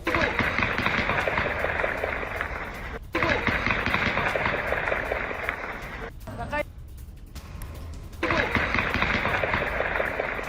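Rapid bursts of gunfire crackle near an oil refinery in Erbil, with a dense barrage running almost throughout and brief pauses around three and seven seconds, loud and close in a news setting.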